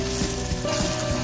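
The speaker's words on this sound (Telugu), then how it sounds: "ఇది కూడా పచ్చివాసన పోయేంత వరకు వేయించుకోవాలి." Tomato and onion paste fries in hot oil with a steady, close sizzle and crackle, no voices.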